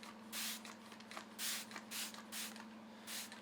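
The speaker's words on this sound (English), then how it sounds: "I'll just spray some of this" Several short hissing bursts from a spray bottle of water onto elm burl wood, five or six quick squirts spaced irregularly over a steady low hum.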